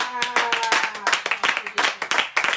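Congregation clapping in a church service, quick sharp hand claps in rhythm filling the room, mixed with voices.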